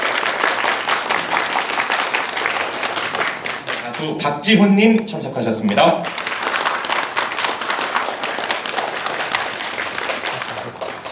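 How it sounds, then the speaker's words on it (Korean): Ceremony audience applause for an environment ministry climate-change ambassador appointment, steady dense clapping throughout while an announcer speaks over it. "본 행사에 큰 박수 부탁드립니다"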